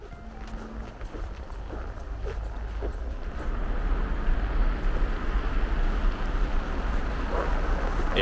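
On board the MyStar ferry to Tallinn, a steady engine rumble and rushing wind noise continue throughout and grow louder partway through, with no one speaking.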